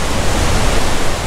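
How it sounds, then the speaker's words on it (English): Cauldron Snout waterfall dropping from Cow Green Reservoir toward the River Tees, a loud continuous roar of rushing water with a rumbling low end and no voices. "that's Cauldron Snout, which drops from the reservoir all the way down there"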